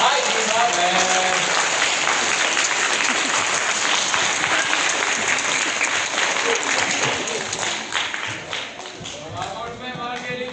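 A crowd bursts into sustained applause at a medal ceremony, dense, loud clapping that carries on for several seconds and then thins slightly toward the end.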